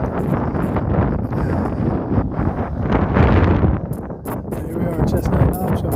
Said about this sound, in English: I apologize for the wind. It's very windy up here.